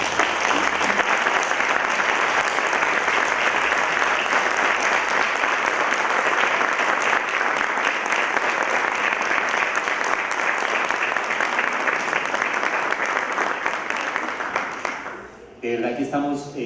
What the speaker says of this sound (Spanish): les quiero pedir por favor a la generosidad de autores y autoras que les regalen un aplauso